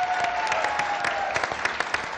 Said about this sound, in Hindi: यस, ताली होनी चाहिए, बहुत अच्छा खेल अदनान भाई।